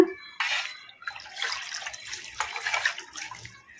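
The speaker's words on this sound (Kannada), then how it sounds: "ಅದಕ್ಕೆ ಇನ್ನ ಸ್ವಲ್ಪ ನೀರು ಹಾಕೋಣ" Water is poured into a spice mixture for Andhra-style brinjal pachi pulusu, a close, splashy trickle that starts sharply and runs unevenly for a few seconds with small gurgles and drips.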